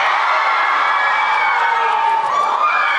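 A crowd of fans cheers and screams continuously at a K-pop fan concert in Hong Kong, a loud, high-pitched roar with whoops rising out of the din throughout.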